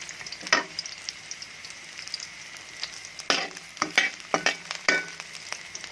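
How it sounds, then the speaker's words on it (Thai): Shiitake mushrooms fry in hot oil in a pan, giving a steady close sizzle broken by scattered clicks and scrapes of stirring that grow busier toward the end. "ได้ความหอมจาก เห็ดหอมที่เราเอาไปผัดไปทอดน้ำมันก่อนนะคะ"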